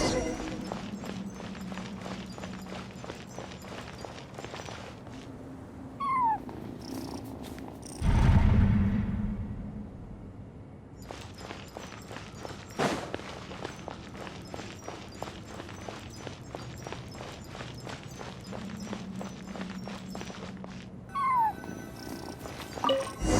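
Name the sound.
cat crying and meowing in video game Genshin Impact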